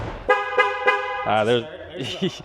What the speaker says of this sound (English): There's the honk.